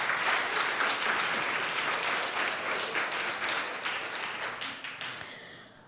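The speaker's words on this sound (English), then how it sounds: "yes, let's clap it up." An audience breaks into applause during a talk on restorative economics, a thick burst of many hands clapping close and loud that slowly thins and fades toward the end.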